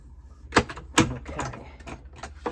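A Cut and Emboss machine closing and pressing card with a 3D embossing folder, two sharp clunks followed by a rattling, grinding mechanical run, close and moderately loud.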